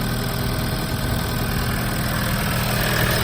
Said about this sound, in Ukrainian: Тягун працює рівненько, без проблем.